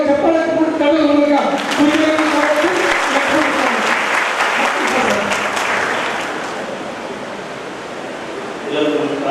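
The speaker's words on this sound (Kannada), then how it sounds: "ಜೋರಾಗಿ ಚಪ್ಪಾಳೆ ಕಳೆದ ಮೂಲಕ" Loud, dense applause from an audience at a community youth gathering in Gulbarga, a steady wash of clapping that swells in the middle and fades slightly near the end, with faint voices underneath at the start.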